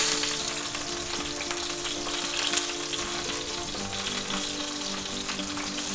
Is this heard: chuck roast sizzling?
yes